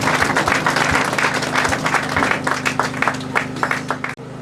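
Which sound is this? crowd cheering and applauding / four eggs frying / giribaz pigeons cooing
crowd cheering and applauding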